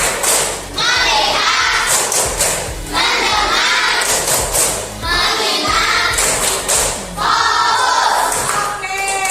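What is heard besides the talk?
rhythmic clapping of tepuk konsentrasi classroom clap game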